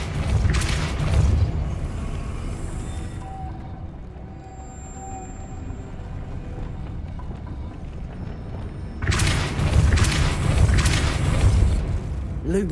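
Depulso spell cast in Hogwarts Legacy, heavy booming magical bursts at the start and again near the end, loud and close, with a quieter rumbling game ambience between them.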